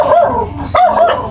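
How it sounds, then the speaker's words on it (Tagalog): A dog barks sharply and close, two or three loud, agitated barks in quick succession. "Grabe yung maingay mo, aso mo."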